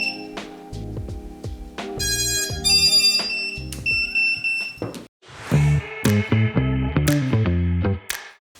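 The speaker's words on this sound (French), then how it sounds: "quand le petit buzzer autonome buzz comme ça" Electronic buzzer on an 8-inch long-range drone beeping in several tonal bursts, some steady and some warbling, loud and close with short pauses between.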